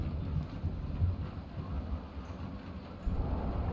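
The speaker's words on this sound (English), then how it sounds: "Storm's too goddamn loud." A thunderstorm outside gives a steady, dense wash of rain with low rumbling, holding at moderate loudness and swelling slightly toward the end, with no talk.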